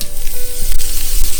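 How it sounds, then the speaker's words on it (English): Butter hitting extra virgin olive oil already very hot in a pan, frying with a steady, close, loud sizzle that crackles continuously throughout, with no voices over it. "I have got some extra virgin olive oil already heating up in the pan, getting real hot in there."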